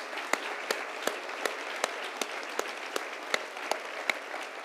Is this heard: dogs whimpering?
no